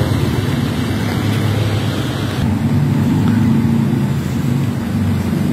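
Motorcycles push through a road flooded deep like a river near a senior high school, their engines a loud, steady drone mixed with rushing, churning water, with no talk.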